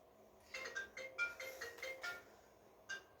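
A mobile phone rings indoors with a short repeating electronic melody, fairly faint and alone in a quiet room, pausing briefly before one more note.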